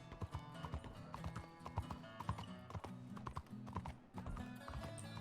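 Hooves clip-clopping at a steady walking rhythm from a horse in the video game RedM, close and fairly clear over low game music, with a brief dip near the end.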